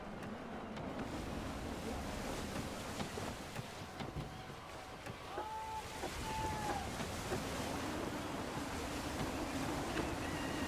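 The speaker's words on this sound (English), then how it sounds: "Wind looks to be shifting. Stay alert, Connor. Gusty winds can be difficult to manage." Gusty wind and ocean waves at sea in Assassin's Creed III Remastered form a steady, faint, low rushing wash that swells slightly partway through, with no voices.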